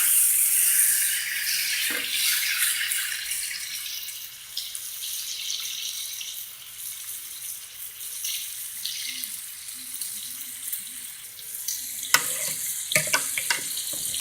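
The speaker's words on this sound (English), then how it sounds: "I'm going to cook up my bacon first, and then add in those peppers at the last minute" Bacon sizzles and crackles steadily in a pan, a dense hiss that runs throughout with a few louder pops and scrapes near the end.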